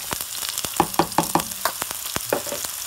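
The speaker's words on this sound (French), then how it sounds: "On fait caraméliser les 20 g d'oignons là." Onions caramelising in a pan crackle and sizzle with quick, irregular pops over a soft continuous hiss, close and fairly loud, no speech.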